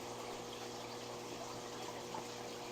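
Constant low whooshing of water being pumped out of a 240-gallon freshwater aquarium, steady and fairly quiet with no breaks.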